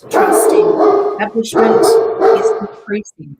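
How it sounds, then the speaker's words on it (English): A pet dog barks and yips in two loud close bursts with whimpering between, under someone speaking. "Sorry, that's my dog."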